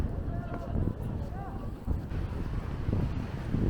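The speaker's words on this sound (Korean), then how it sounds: "바닷바람이 세네." Strong sea wind buffets the microphone with a steady low roar, and a voice speaks briefly over the gusty rumble.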